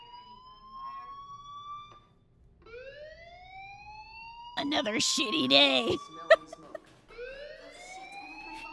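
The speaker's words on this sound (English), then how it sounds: "you hear that fire alarm?" A school fire alarm in the video game Life is Strange wails in rising electronic sweeps, with a voice briefly speaking partway through as the siren tones repeat.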